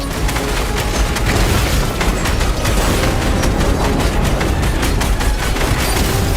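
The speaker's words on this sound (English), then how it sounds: "Those crystals will detonate the 0 Point." Video game explosions from crystals detonating during a live in-game event, a dense, loud, continuous barrage of booms and crackling bursts with no pauses.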